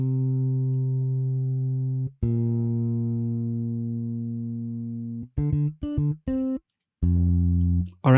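Synth bass line played over a Splice sample beat in FL Studio, long sustained low notes followed by a few short choppy stabs with brief gaps, clean and prominent with no talking.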